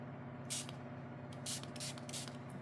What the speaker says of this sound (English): basically it's about spraying